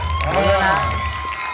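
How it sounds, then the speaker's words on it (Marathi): Clapping and cheering from an audience at a Marathi fashion show competition, a steady noisy crowd roar with voices mixed throughout. "मंगळगुरुवारीच्या टाळ्यांचा आवाज सगळ्यात जोर."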